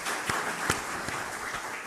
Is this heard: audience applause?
yes